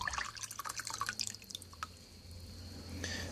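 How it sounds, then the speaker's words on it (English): Hot water poured into a mix of coffee for Caffenol C film developer, giving close, irregular splashing and dripping trickles with a steady faint hiss, alone without talk. "So we'll start pouring the coffee in,"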